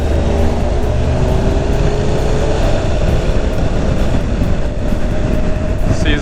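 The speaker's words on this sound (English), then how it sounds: "See, the switching of the gears almost goes instantly." A Honda NC750X DCT motorcycle engine runs loud and close while shifting gears in manual mode, with a dense roaring drone and rising tones that jump in pitch as the quick gear changes happen.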